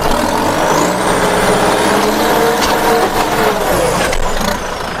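A 50 hp four-cylinder direct-injection turbocharged four-wheel-drive tractor engine runs loud and steady in second gear, pushing under load with a dense continuous roar and no talk.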